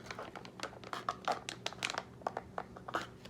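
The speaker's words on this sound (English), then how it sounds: "and to zip it up" Crinkly plastic rustling and crackling up close, a run of short scratchy bursts as a biscuits and gravy food pouch is handled and zipped shut.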